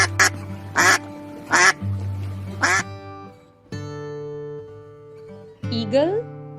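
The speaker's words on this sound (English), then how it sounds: "Duck," A duck quacks in three loud, separate bursts over a steady tonal backing, followed by a quieter stretch and a brief voice near the end.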